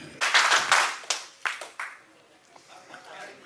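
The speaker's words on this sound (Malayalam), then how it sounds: "അത് നമ്മുടെ കേരള സ്ട്രൈക്കേഴ്സിന്റെ ഒരു പുതിയ മോഡൽ ക്ലാപ്പ് പാറ്റേൺ ആണ്" People clap in a short new pattern at the Kerala Strikers jersey launch. A few bursts of claps come close together and then die away, with voices in the background.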